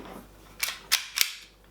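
A Secutor Magna CO2 pistol fires three sharp shots in an even rhythm, each a crisp loud crack standing alone over faint background hiss.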